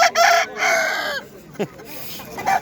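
A rooster crows at a poultry market in İzmir, two loud close calls separated by brief gaps, with faint market noise and a short bit of background voice.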